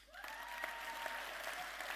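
Audience at the 2019 Super League awards ceremony applauding, a steady wash of clapping from a large crowd, fairly faint, with a voice running underneath.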